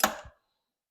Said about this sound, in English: That noise was the wrench falling off.